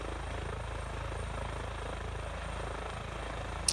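An EC145 air ambulance helicopter hovering sideways in Microsoft Flight Simulator gives off a steady, even rotor and turbine drone, continuous and moderately loud, with no speech.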